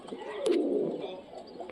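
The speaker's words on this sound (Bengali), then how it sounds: "এই দেখো পায়রা দেখো" Pigeons at a pigeon sale give a soft, low cooing that swells in the middle and then fades, with faint chirps over a quiet background.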